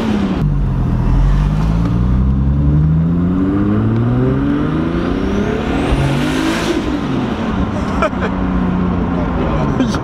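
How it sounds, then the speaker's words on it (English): A right-hand drive Nissan R32 GTR revs with rising and falling engine tones while its anti-lag system crackles and pops, loud and close, with people talking over it. "Oh, that's the anti-lag."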